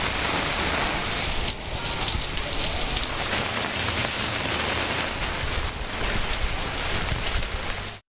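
Heavy monsoon rain pouring in coastal Tamil Nadu around Rameswaram, a loud unbroken roar of drops drumming on surfaces, close and constant for several seconds before cutting off, no speech.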